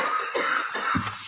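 A woman coughs in a courtroom during a murder trial, a few harsh, fairly loud bursts spread across a short stretch, with a low rough burst near the end.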